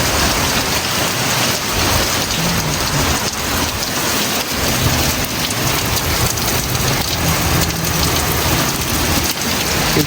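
Heavy rain pours down in Canada, a dense, continuous hiss of drops striking surfaces close by, with low rumbles that may be thunder underneath and no talking.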